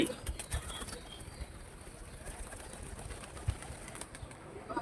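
Pigeons on a farm in Patenga, Chattogram give faint, distant coos and light rustles against quiet outdoor background noise, with a few soft thumps and wing flutters.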